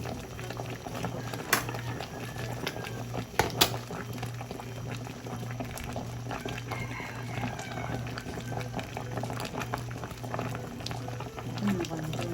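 Corn cobs simmer in a pot of water after about twenty minutes of cooking, giving a steady bubbling boil with a few sharp clatters near the start, heard close and continuous.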